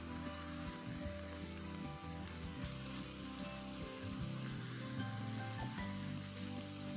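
Chicken fried rice with light soy sauce and black pepper sizzles and stir-fries steadily in a hot pan, a continuous crackling hiss with faint scraping, no talking.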